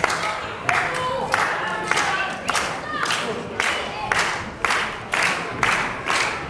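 Crowd at a live WrestleForce wrestling title match in Harlow, cheering and chanting in regular rhythmic bursts, with a commentator's voice running over the noise.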